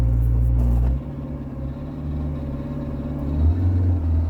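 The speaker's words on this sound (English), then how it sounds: "this is like a slipping clutch" A car with a slipping clutch labours at low revs, giving a deep droning engine rumble with a steady mechanical flutter, close and fairly loud, rising slightly near the end.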